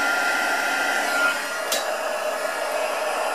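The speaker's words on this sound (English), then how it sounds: "Can't get the heat tool off now." A heat tool blows hot air onto vellum in a steady, close, continuous whoosh that runs through the whole clip with no talking.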